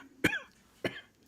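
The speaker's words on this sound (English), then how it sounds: "You got a little cough, a little dry throat." Two short, sharp dry coughs about half a second apart, close and fairly quiet, with near silence around them.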